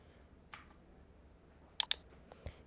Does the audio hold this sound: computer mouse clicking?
yes